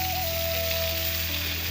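Pointed gourd (potol) fries in a pan with a steady, close, even sizzle throughout, a constant hiss with a faint background hum and no speech.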